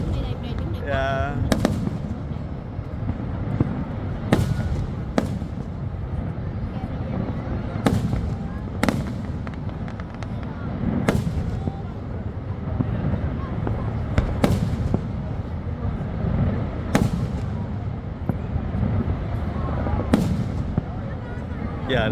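Fireworks display at Niagara Falls, with sharp bursts going off one by one at irregular intervals over a steady crowd and water roar, and people talking throughout.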